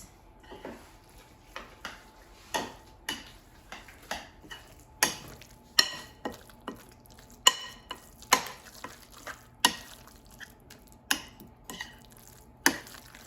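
A spoon working salt and pepper into a mixture in a bowl, giving soft scraping strokes with faint taps at a steady rhythm, roughly one every second, close and fairly quiet.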